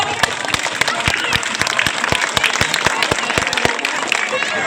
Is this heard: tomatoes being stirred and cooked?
no